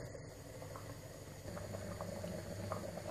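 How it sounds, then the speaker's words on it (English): Chilli con carne made with beef brisket bubbling steadily in a pot, a soft continuous simmer with faint pops rising through it, close and fairly quiet with no talk. "Right, so this is bubbling away."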